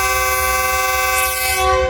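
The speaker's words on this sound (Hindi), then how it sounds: "ट्रेन डिपार्चर, और उस ट्रेन का डिपार्चर जिसमें बाहर खड़े होने तक की जगह नहीं है" A crowded train departs Lahore railway station, its horn sounding as a long, loud, steady multi-tone blast that runs the whole length, over a low rumble of rolling stock.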